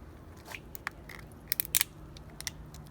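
Cooked lobster tail shell being crunched by hand in a kitchen, a few sharp, close cracking snaps clustered together, alone and fairly quiet.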